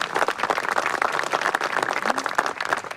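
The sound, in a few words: crowd applause at Memorial Day service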